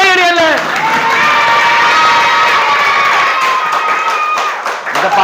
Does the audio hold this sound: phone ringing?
no